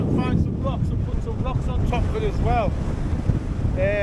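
Strong wind gusting across a hillside campsite on a high fell at Easter, a steady loud buffeting roar over the microphone with a person talking throughout.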